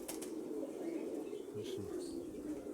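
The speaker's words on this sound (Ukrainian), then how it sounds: "Ганяємо голубів." Pigeons in Mykolaiv, Ukraine, flap their wings in a few soft bursts over a low, steady background rumble, with faint cooing.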